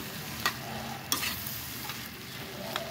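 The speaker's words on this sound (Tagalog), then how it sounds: "Haluin natin." Bananas simmering in coconut milk in a pot are stirred with a spoon, a soft bubbling sizzle broken by a few scattered scrapes and taps against the pot, close and fairly quiet.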